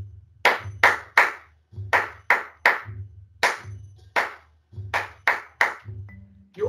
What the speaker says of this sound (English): Let me do it with clapping along.